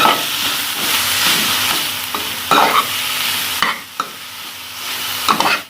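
Samosa filling of chicken and potato being mixed in a hot pan with green chilli, coriander and mint, a steady close sizzle and hiss under repeated scraping stirs, with a few sharper knocks of the spoon against the pan.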